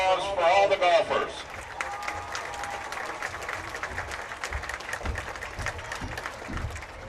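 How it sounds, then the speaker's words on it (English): Crowd at a high school football game between Baltic and Elk Point-Jefferson claps and cheers, loudest at first and then continuing under a public address announcer who talks over it. "Let's have a big round of applause for all the golfers."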